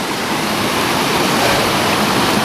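River flowing through a woodland valley in North Wales, a loud continuous broadband rush of moving water, steady and close with no breaks or voices.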